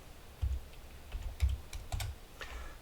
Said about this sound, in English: So I'm going to type Tesla.